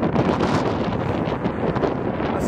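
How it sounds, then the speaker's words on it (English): Strong wind buffets the microphone on a glass bridge, a loud, steady roaring rush with gusty swells and no voices, continuous across the whole moment. "It's really windy."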